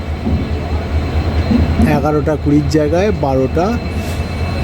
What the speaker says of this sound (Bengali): অবশেষে বারোটা দশে ট্রেন ছাড়লো হাওড়া থেকে